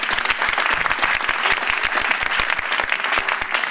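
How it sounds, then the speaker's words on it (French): A church congregation claps in lively, dense applause that fills the room, a fast, even patter of many hands with no pause. "Nous pouvons nous asseoir et acclamer le Seigneur rapidement."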